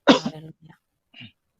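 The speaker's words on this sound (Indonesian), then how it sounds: "Saya batuk, Kak, kena COVID kemarin, masih batuk, belum sembuh." A sick person, still recovering from COVID, gives one sharp close cough followed by a couple of short, quieter rough throat noises.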